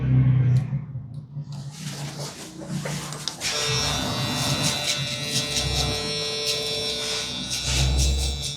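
An electric hair trimmer buzzes steadily and fairly loudly while cutting a taper fade at the nape, its motor whine holding throughout with slight shifts in pitch as it moves across the hair.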